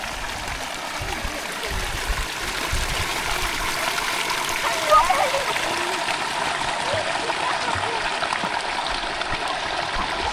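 Spring water gushing from the ground and pouring down at Kapıkargın near Dalaman, Turkey. It makes a steady, close, continuous rushing and splashing that never lets up.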